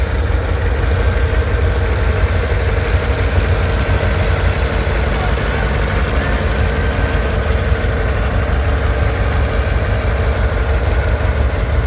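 A big D19 tractor rolling past on its way to a parade, a loud, steady low engine rumble up close throughout, with faint voices mixed in.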